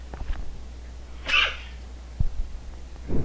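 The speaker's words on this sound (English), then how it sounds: "Oh, 1 sec, I'm gonna sneeze." A single short sneeze bursts out at moderate level midway through, followed by a couple of faint breathy sounds over a steady low hum during a game of Space Engineers 2.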